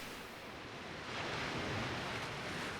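North Sea waves wash onto a sandy beach with dunes at sunrise, a steady broad roar of surf that swells louder midway, with no voices.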